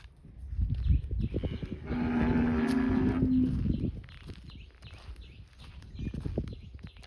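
A cow lets out a long, deep moo at a farm where cattle, including pregnant cows, are kept for sale, with hoof thuds and shuffling of livestock close by before and after.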